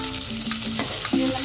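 About fifteen finely chopped small onions (shallots) and garlic fry in a pan for sundakkai kuzhambu, a close, continuous sizzle broken by scraping stirs.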